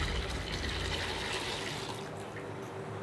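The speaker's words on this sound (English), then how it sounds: "In these tanks, the urine is filtered until it's clear." Cow urine flows through filtering tanks with a continuous watery rush and splash, an even wash of liquid sound at moderate volume with no voices.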